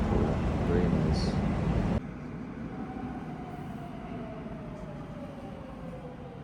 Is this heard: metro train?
yes